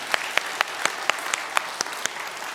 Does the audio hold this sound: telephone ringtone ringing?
no